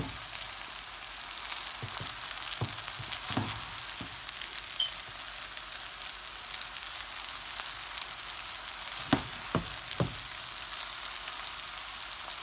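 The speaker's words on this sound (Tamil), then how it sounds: "நூடுல்ஸ் போட்டிருக்கிறேன். இனி இப்படியே நூடுல்ஸை கிளறி" Egg noodles frying in a hot pan, a steady close sizzle broken by a few sharp scraping knocks as they are stirred, with no talk.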